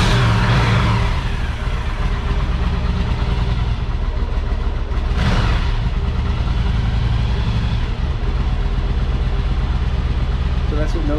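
A 1984 Yamaha Virago XV1000 motorcycle started cold without choke settles into a loud, steady close-up engine rumble with a brief rise in revs partway through.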